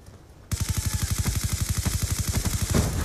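Rapid automatic gunfire in the video game Call of Duty Black Ops 2, a long fast burst of evenly spaced loud shots that starts abruptly after a quiet half second and runs to the end.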